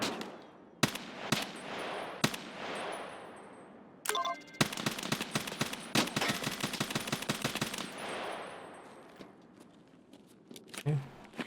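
Gunshots in Escape from Tarkov (SPT) on the Streets of Tarkov: a few scattered single shots, then a long rapid automatic burst and trailing echoes, fairly close and loud.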